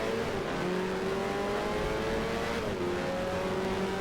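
Formula 1 race cars from 1973 roar in a racing video game, a steady, loud, high engine drone holding pitch as they accelerate down a straight, with a slight pitch dip midway, no talk.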